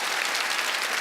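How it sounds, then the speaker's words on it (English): A studio audience at an interview event applauds guest Craig Revel Horwood, a brief, dense, even burst of many hands clapping with no speech over it. "will you please give a huge round of applause to our wonderful guest, Mr. Craig Revel Horwood"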